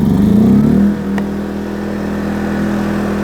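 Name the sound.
inverter generator engine running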